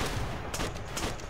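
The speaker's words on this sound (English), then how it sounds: "Our artillery will shoot." Artillery gunfire in a video game: a dense, noisy barrage of blasts with two sharper bursts standing out, loud and continuous through the short moment.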